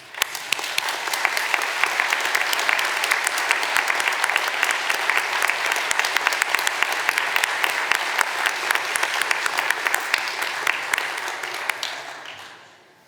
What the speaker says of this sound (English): let us give them a tumultuous round of applause